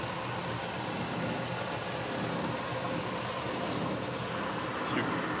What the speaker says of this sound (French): Le moteur qui tourne très régulièrement, très feutré.